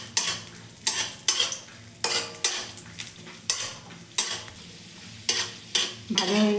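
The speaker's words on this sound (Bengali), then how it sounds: "এবার কাজু কিশমিশ আর কিছুটা আমন্ড একটু ঘিয়ে হালকা ভেজে নেব।" Cashews, raisins and almonds frying lightly in ghee for a jaggery semolina halwa, a steady close sizzle broken by regular spoon scrapes and stirring clinks against the pan, with no talking.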